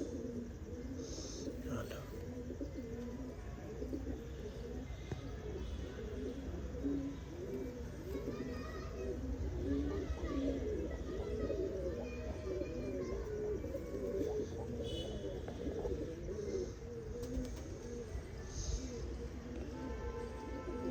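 Pigeons coo in low repeated bursts close by, a continuous murmuring under background noise and people talking.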